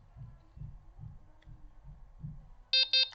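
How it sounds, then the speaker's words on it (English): Two short, bright electronic beeps from a Delkim fishing bite alarm sound back to back near the end, after a low, soft throbbing background. "And I wait for 2 beeps."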